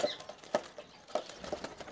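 Several quick bursts of a released pigeon's wings flapping, close by and fairly soft, in short irregular flurries with brief pauses between.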